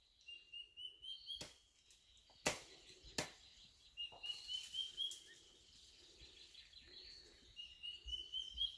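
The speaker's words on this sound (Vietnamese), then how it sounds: "Rất là nhiều tiếng chim khác nhau." Many different birds call and sing in a Phong Nha mountain forest, with repeated high whistled notes and chirps near and far, broken by several sharp knocks or snaps.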